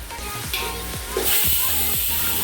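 Chopped tomatoes frying with browned onions in a pan for mutton pulao, a loud continuous sizzle broken by a few utensil scrapes and knocks, heard up close with no voice.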